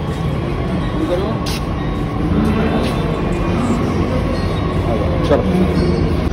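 Steady loud rumble of a Delhi metro train pulling in, with rail hum and faint squeals, as voices talk in Hindi over the din of a busy platform.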